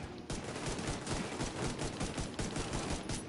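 Rapid pistol gunshots in Tom Clancy's The Division 2 crack in a dense, continuous burst of repeated shots, loud and close, with no talking over them.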